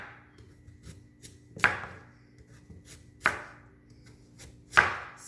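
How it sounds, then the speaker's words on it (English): Sweet potatoes being sliced thick with a knife on a cutting board, three sharp chopping thuds spaced about a second and a half apart, close and clear over a low background hum. "So just slice your potatoes."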